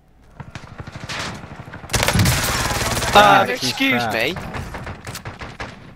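Rapid bursts of gunfire from players shooting in a first-person shooter game, loud and sustained, with talk from the players running over it.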